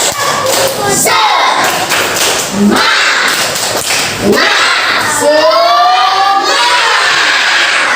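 Children in a class clap a rhythmic spirit clap in unison, loud sharp thuds and taps repeating in bursts, with shouting voices and a teacher's voice leading between rounds.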